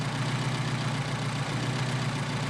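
A Mercedes 190SL engine with Solex 44PHH carburetors idles close by in a smooth, constant low drone with a faint mechanical hiss, holding steady without revving.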